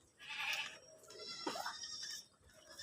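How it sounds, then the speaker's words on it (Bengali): Goats stand lined up on a farm at morning and bleat in a few quavering calls, fairly faint and close, with no talk over them. "দেখুন কত ছাগল দাঁড়িয়ে আছে"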